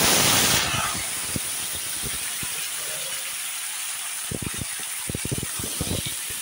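Potato and flat bean pieces tipped into a hot pan, with a loud hissing sizzle at first that settles to a steady fry under a string of clattering, rattling knocks.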